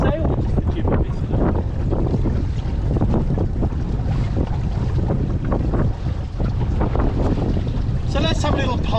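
A sailboat beats along under jib and mizzen in a Force 4 with Force 5 gusts, loud steady wind rushing over the microphone with water wash, and a voice speaking underneath.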